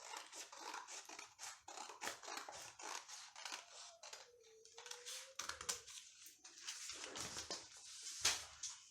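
Scissors snipping through fabric while cutting out a sleeve pattern, a quick run of crisp, close cuts in a steady irregular rhythm at low volume, with a brief faint tone in the middle and no talking.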